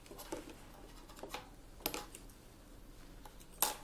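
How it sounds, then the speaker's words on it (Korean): Scissors trim a Bichon Frise's fur at the bridge of the nose during grooming, giving a few faint, sharp snips spaced irregularly over a quiet background with no talking. "옆에 콧등에 가위를 넣고 가위를 대고 45도 자 가위를 넣고 45도 45도로 먼저 잘라줍니다."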